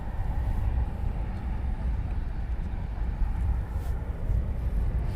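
An RAF Typhoon fighter jet inbound to RAF Coningsby makes a distant, steady low rumbling roar that hangs in the air without a clear peak, with no voices over it.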